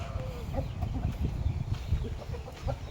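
A Taiwanese fighting cock, kept by a breeder for cockfighting, lets out scattered short clucks against a steady rumble of low background noise.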